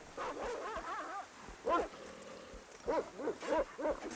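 A dog sound effect from a tabletop roleplaying game session: a run of barks and whimpering yips, moderately loud, repeating in short bursts over a low background hum.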